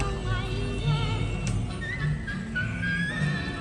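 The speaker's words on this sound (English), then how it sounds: "If you listen closely, you'll hear her whistle while she works" Faint melodic whistling drifts over a busy mix of music and horse whinnies on the Storybook Land boat ride, the tune rising in short phrases in the background.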